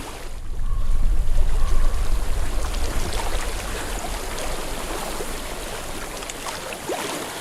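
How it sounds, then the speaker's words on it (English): Steady broadband rush of stream water flowing in a video game setting, Hellblade: Senua's Sacrifice, loudest early then settling to an even, continuous wash with no voices. "I hear water."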